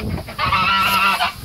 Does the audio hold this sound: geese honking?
yes